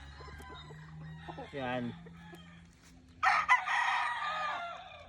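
Fighting rooster crowing and clucking nearby, a short crow midway followed by a louder, longer burst of crowing and clucking, with someone talking at points.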